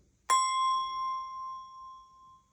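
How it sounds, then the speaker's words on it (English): A single Montessori grading bell is struck once, giving a bright, clear ring that sustains and slowly fades over a couple of seconds in a quiet room. "We're simply going to listen to this first bell and see if we can figure out which one comes next."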